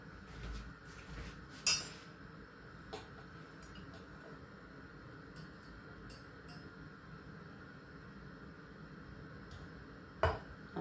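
Dishes washed by hand in a quiet home kitchen, with two sharp clinks of dishware near the start and end over soft, faint background noise.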